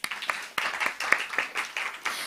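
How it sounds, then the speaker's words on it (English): An audience at a learning-city talk gives a short round of applause, a steady patter of many hands clapping with irregular louder claps, fairly close and with no speech over it. "just another round of applause to them"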